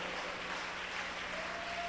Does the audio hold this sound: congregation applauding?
yes